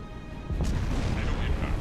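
A torpedo strikes a ship in a World War II submarine game and explodes with a deep, rumbling boom that swells midway and rolls on, heavy and close, with no talk over it.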